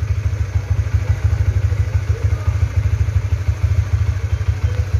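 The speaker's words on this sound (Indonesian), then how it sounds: "biar nanti kesini sudah lihat motornya sudah dipanasi kan, sudah fit ya." A warmed-up Honda Tiger Revo or CB150R motorcycle engine with about 2000 km on it idles close by, a loud, fast, even low-pitched putter with steady rhythmic pulsing and no voices.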